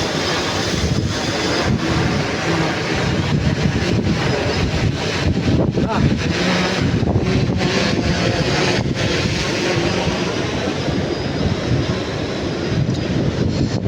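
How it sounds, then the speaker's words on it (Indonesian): Strong wind buffets the microphone at sea aboard a fishing boat in rough conditions with big waves, a loud, continuous roaring rush with gusty surges and water noise beneath. "Angin kencang."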